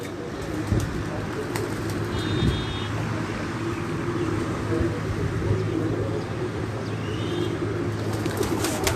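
Pigeons at a pigeon loft coo softly amid a steady background murmur and rumble, with a couple of faint higher chirps along the way.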